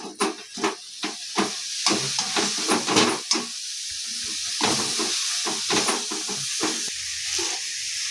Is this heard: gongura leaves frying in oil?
yes